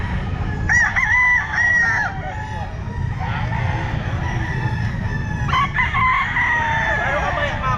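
Roosters crow repeatedly nearby at a pet market, their calls overlapping with clucking and background chatter, loud and close.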